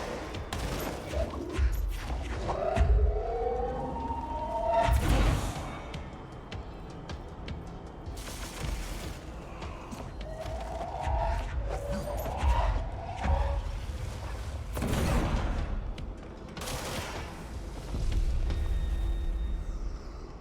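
Enemy explosions in the video game With a Hope and a Prayer, during a boss fight: several heavy booming blasts, some close together, with gunfire-like bursts between them over steady game background.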